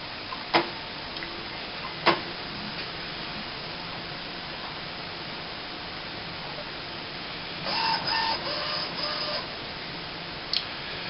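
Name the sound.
Epson S20 printer running its startup procedure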